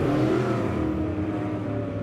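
Race cars lap the Lebanon Midway Speedway during a heat race, a dense roar of engines held steady and loud with a slowly shifting pitch as they come through the turns.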